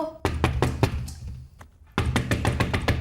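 Rapid, loud knocking pounds on a door in a run of hard raps, a short pause with faint rustle, then another fast burst of knocks, close and insistent.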